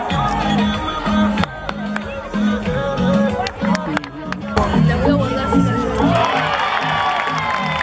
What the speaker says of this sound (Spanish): A ver, aplausos arriba a todos.